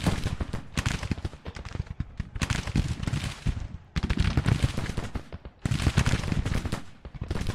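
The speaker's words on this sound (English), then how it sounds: "there goes a goddamn coffee mill gun" A Civil War coffee mill gun fires in Grand Tactician: The Civil War, hand-cranked rapid bursts of shots in three or four long rattling volleys separated by brief pauses, loud and close.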